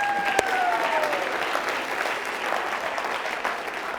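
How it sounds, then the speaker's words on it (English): Conference audience applause for a plenary speaker, a dense, sustained wash of clapping from a large crowd, steady and fairly loud, with a brief sliding tone near the start. "Let's all give him another round of applause."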